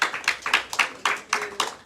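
A church congregation clapping in a quick, steady rhythm, with sharp hand claps repeating about every quarter second, close and moderately loud.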